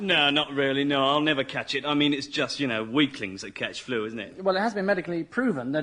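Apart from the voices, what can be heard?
No distinct noise like a dog, phone or traffic.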